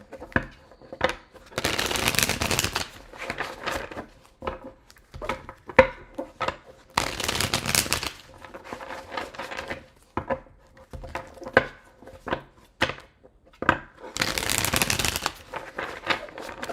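Tarot cards being shuffled by hand, coming in three long, loud bursts of riffling, with scattered taps and card handling in between and no talking.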